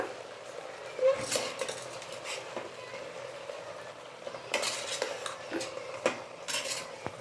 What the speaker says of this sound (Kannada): ಈಗ ಪೂರ್ತಿ ಮಿಕ್ಸ್ ಮಾಡ್ಕೊಂಬಿಡೋಣ